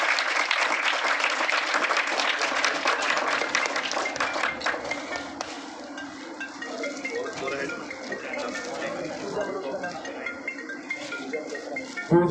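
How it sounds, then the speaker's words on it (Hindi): Loud, sustained applause from a crowd welcoming a medical team at an event, dense clapping near and continuous that gradually softens, with murmuring voices underneath. "एक बार जोरदार तालियों से स्वागत करेंगे, जोरदार तालियों।"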